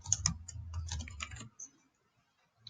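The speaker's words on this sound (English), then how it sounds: "then you can type that in" A quick burst of keystrokes on a computer keyboard, a dozen or so close, crisp taps in about a second and a half, then quiet.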